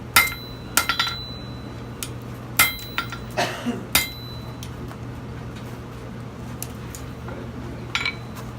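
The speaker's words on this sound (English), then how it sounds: "drop forging a hook" Hot steel being hammered while drop forging a wall hook at a forge demonstration, a series of sharp metallic clinks and ringing blows spaced irregularly over a low hum, moderately close, with no talk.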